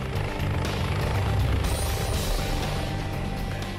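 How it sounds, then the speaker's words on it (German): A rescue helicopter on an emergency medical call makes a steady, loud rotor and turbine drone that holds evenly throughout, with no voices over it. "Mitarbeiter der Leitstelle, in der die Notrufe eingehen, haben den Hubschrauber alarmiert"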